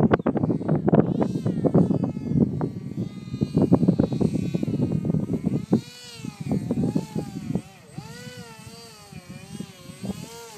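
A radio-controlled MiG-29 model jet flies during an airplane soccer game that ends in a crash, its motor whine rising and bending in pitch as it passes, with people talking over the first half.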